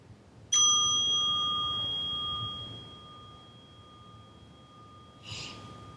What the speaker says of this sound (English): we'll begin and end this session with a little ringing of this bell.